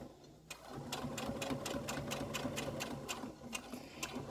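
A sewing machine reverse stitching a clear view pouch runs steadily at close range, with a rapid, even needle rhythm that eases briefly near the end.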